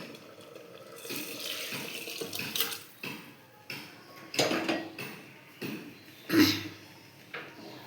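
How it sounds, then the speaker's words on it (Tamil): Watery beef curry is poured from a vessel into cooked drumstick vegetables, heard as a series of sloshing, splashing bursts with short pauses between them in a quiet kitchen. "இப்போ இந்த கறியை தண்ணியோடு அப்படியே எடுத்து இந்த காயில் கொட்டிடலாங்க."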